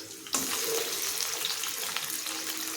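Raw chicken dropped into a pan of fried onions and oil for a curry sets off a sudden loud, steady sizzle that holds near and close for a few seconds.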